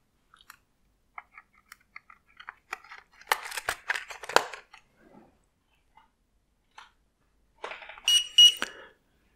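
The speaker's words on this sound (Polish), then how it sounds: "Rozpoczął się proces uruchamiania serwera, co zostało zasygnalizowane sygnałem dźwiękowym. Pierwsze piknięcie." Scattered clicks and rustles, then a brief bright electronic beep tone near the end as an F&Home RADIO DIN-rail server powers up, standing out clearly in an otherwise quiet room.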